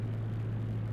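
Aircraft engine pulled back toward idle with flaps set to 10 degrees, a steady low droning hum with a strong tonal throb, close and continuous, no voices.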